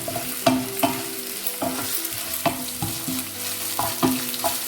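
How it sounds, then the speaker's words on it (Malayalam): Ginger and onion sizzle and fry in a pan for a prawn roast, with a spoon stirring and scraping in steady repeated strokes against the pan under the constant hiss of hot oil. "ഇതെല്ലാം കൂടി നന്നായിട്ടൊന്ന് മൂക്കട്ടെ."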